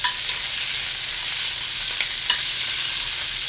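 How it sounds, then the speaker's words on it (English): Green beans blister in hot roasted garlic oil, giving a constant, close crackling sizzle with occasional soft stirring clicks. "it gets hot enough to blister the green beans"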